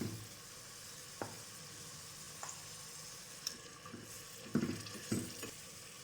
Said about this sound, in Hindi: 2 से 3 मिनट के लिए इसको लहसुन की पेस्ट में चिकन को फ्राई कर लेंगे